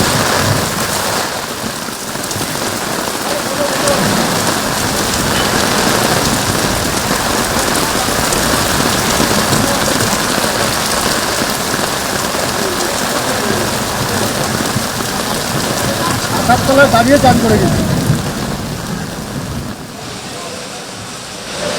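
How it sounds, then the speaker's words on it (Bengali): Heavy rain pours steadily over Kolkata throughout, a dense, even hiss with no break, and faint voices surface now and then beneath it. "প্রবল বৃষ্টি শুরু হয়েছে কলকাতা সহ 2-24 পরগনায়।"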